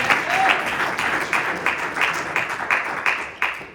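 During a Spanish-language Bible study, a church congregation applauds in thick, sustained clapping. Rhythmic unison claps punch through at a steady beat, roughly every third of a second.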